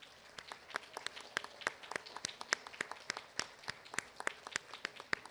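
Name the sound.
audience applause for faculty and staff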